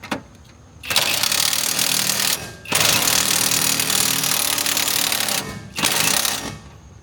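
A power impact tool snugs down bolts on a Nissan S15, firing in loud sustained bursts with short pauses between them, close and harsh with no talking.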